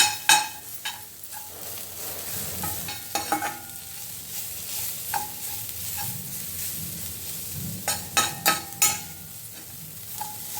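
Dried fenugreek leaves, kasuri methi, are dry-roasted in a pan with little or no oil, a low steady frying hiss broken by repeated sharp scrapes and knocks of a spatula against the pan, no voices.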